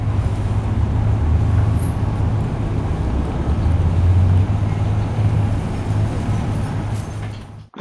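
A 2008 GMC Yukon Hybrid SUV rolls along in pure electric mode, with steady low road and tire rumble and a faint hum, continuous and close inside the cabin.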